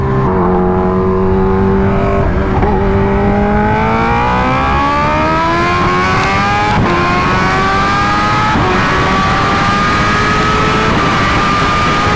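A Kawasaki Ninja H2R sport motorcycle engine roars continuously at speed, pitch climbing steadily as it accelerates, loud and close with heavy wind rush throughout.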